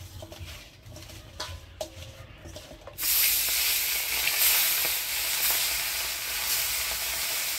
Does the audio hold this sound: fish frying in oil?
yes